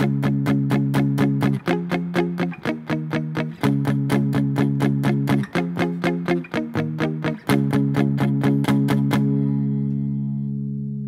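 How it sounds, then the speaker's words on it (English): An electric guitar plays the palm-muted verse chord progression, using barred chords in short rhythmic strums. A final chord rings out and fades. "And all put together, it sounds like this."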